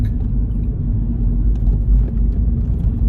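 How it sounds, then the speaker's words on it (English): A garbage truck drives past on a street, a heavy, steady low engine rumble that stays loud and close throughout with no talking. "There's a garbage truck."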